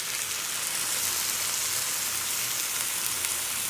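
Canned chopped tomatoes in their juice sizzle in a pan of fried vegetables, a loud, steady, close crackling hiss that holds evenly throughout with no talking.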